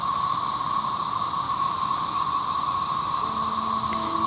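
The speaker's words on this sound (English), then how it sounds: "You can hear the constant drone of the male cicadas in the background." Male cicadas keep up a constant, even drone, a loud, unbroken buzzing hiss with a steady whining tone and no pauses or voices.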